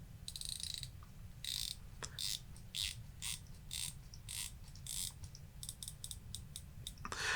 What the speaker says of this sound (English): the clicks are very precise and it is very, very tight